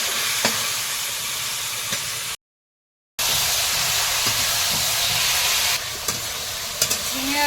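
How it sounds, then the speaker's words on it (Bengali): Potatoes being stirred and fried in a pan over a lit village stove, a steady close sizzle and hiss with scraping stirs, broken by a brief silent gap before frying resumes. "আলুটা বেশ কিছুক্ষণ নাড়াচাড়া করে নিয়েছি"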